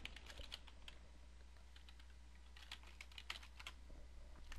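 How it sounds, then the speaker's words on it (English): Typing on a computer keyboard while entering an employee's email address, a quiet run of light key taps in uneven bursts, close and alone with no voices. "I can type in Ken's email address."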